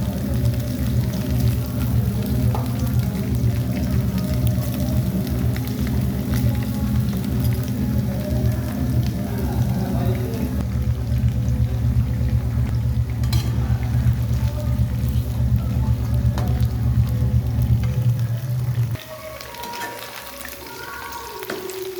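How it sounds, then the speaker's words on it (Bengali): Chicken pakora frying in a wok of hot white oil, a steady, dense sizzle and crackle that runs loud and unbroken for about nineteen seconds, then drops away abruptly, leaving only faint low kitchen noise. "কড়াই তেলটা গরম হয়ে গেছে, সাদা তেল। এবার ছোটো ছোটো করে ছেড়ে দিচ্ছি ভাজার জন্য।"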